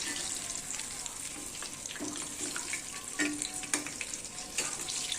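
Large bajji chillies fry in an iron kadai with a soft continuous sizzle and bubbling, broken by a few brief clinks and stirring sounds, fairly quiet and close.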